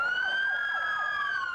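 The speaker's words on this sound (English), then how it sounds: "Cops kept the bear from leaving the field using sirens on their police cruisers." A police cruiser siren wails steadily and fairly loud, a sustained rising and falling tone heard from a moderate distance with no talking.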